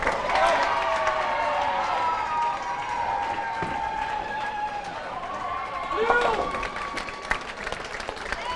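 A crowd cheers and claps steadily throughout at a girls' team bowling semifinal or final of the 2018 European Youth Championships, with voices mixed into the noise.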